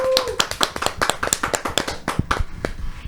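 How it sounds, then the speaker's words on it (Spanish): Hands clap in a studio to welcome a new episode of a Catholic talk show: about a dozen sharp, close claps in an uneven rhythm, each one distinct rather than blended into crowd applause. "Recibimos esta nueva emisión con un fuerte aplauso."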